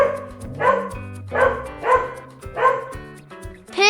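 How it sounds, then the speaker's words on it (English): Dog barking close and loud: a run of about six sharp barks in a fairly regular rhythm, with short quiet gaps between them. "Dog."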